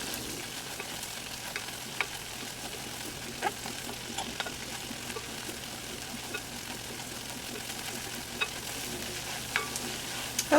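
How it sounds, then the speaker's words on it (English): Flour cooking into a roux in a pot for turkey pot pie, a soft steady sizzle with faint stirring scrapes and small clicks throughout, fairly quiet and close, with no talking. "you cook it off until you've gotten the flour well cooked"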